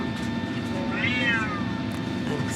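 A cat meows once, clear and fairly close, inside an airplane cabin on a flight from Atlanta to Costa Rica, over the steady low roar of cabin noise.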